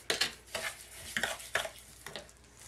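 A sugar scrub mixture being stirred in a bowl, giving repeated scraping strokes at an uneven rhythm, close and fairly quiet, with no talking.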